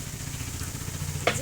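Garlic fries in hot oil in a village-style kitchen, a continuous close sizzle with a brief clink or stir near the end.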